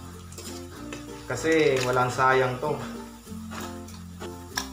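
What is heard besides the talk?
fish frying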